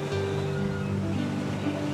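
Steady rushing water with a continuous wash of surf-like noise at Mousuni Island, heard from a spot sitting right over the water, no distinct breaks between waves, and a low hum beneath.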